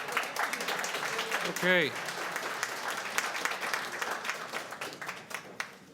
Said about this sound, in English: the clapping is not an arrangement that is generally acceptable